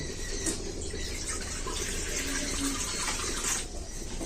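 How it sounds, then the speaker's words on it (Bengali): Water pours steadily into a kadai set up for boiling chicken pieces for pakora, a continuous splashing rush that runs nearly unbroken and fairly close for a few seconds. "এবার আমি কড়ার মধ্যে দিয়ে দিচ্ছি জল"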